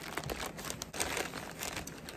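Plastic bags holding ice packs packed around a cake crinkle and rustle in quick, continuous handling, faint and close.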